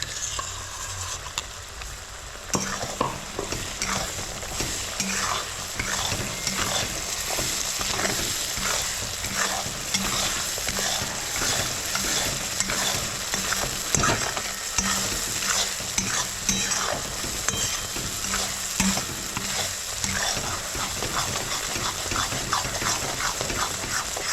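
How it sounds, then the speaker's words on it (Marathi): Coconut, onion and garlic paste with a few peanuts sautéed in a pan, a steady sizzle under repeated scraping stirs that run continuously and close for the whole stretch, with no talk. "खोबरं कांदा लसूणचं वाटण आहे आणि थोडेसे शेंगदाणे सुद्धा टाकलेले आहे त्याच्यात हे सुद्धा आपल्याला चांगल्या प्रकारे परतून घ्यायचं आहे"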